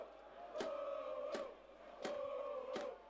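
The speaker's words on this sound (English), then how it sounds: "And a good and vocal crowd in attendance" Vocal soccer crowd at Knights Stadium during a Victorian Premier League match between Melbourne Knights and Richmond, a steady crowd roar with repeated bursts of chanting or shouts rising and falling every second or so.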